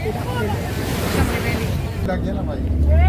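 Ocean surf breaking on a beach near Dwarka, a broad continuous wash of waves mixed with wind buffeting the microphone, loud and close, with voices talking over it.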